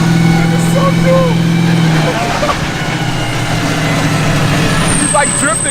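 Monster truck with four-wheel steering driving and drifting, a loud engine drone and tonal whine that drops away midway, close by, with excited voices talking throughout.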